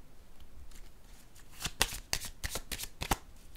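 Tarot cards are shuffled in a run of crisp riffling bursts that grows busier and louder toward the end, with several sharp flicks close to the microphone and no talking.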